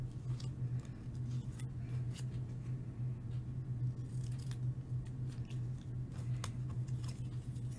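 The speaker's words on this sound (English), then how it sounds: "I'm going to cut each of these squares into half." Quiet, irregular snipping of scissors cutting fabric squares in half over a low steady hum, with soft clicks scattered throughout.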